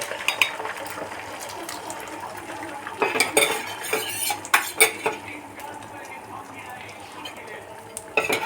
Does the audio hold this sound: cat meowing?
no